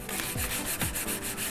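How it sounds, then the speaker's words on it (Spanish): Medium-grit sandpaper rubbed by hand over the corners of a chalk-painted wooden chair, producing steady rasping strokes in a rhythmic back-and-forth pattern, close and fairly loud with no talk. "Le vamos a coger una lija de grano medio y vamos a frotar las esquinas haciendo que aparezca la madera original en el fondo."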